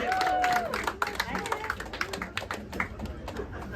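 A comedy club audience at the Edinburgh Fringe claps and cheers for an opening act, a busy patter of hands with voices and crowd noise mixed in, fairly close and steady throughout.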